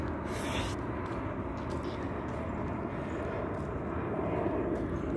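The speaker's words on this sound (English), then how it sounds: "I hear the sounds of aeroplanes" A distant aeroplane passes overhead outdoors as a broad, steady, low rushing drone that swells slightly toward the end, with no speech.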